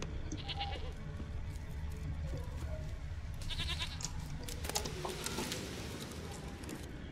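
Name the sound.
goat bleating in the video game The Witcher 3: Wild Hunt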